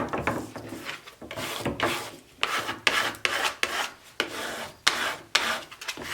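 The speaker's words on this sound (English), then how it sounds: "when applying a decal like this, you always want to start in the center, press down, and work out towards the edges" A vinyl decal under transfer tape is rubbed firmly onto a surface, giving a close, dry scraping rasp in repeated strokes of about half a second, steady and fairly loud with no talking.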